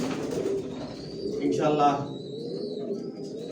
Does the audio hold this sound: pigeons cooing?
yes